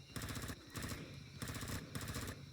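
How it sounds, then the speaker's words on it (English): Rapid automatic gunfire aimed at a creature in Empyrion Galactic Survival, coming in four loud, evenly spaced bursts of quick repeated shots, with no talk. "I'm going to see what happens if I shoot it."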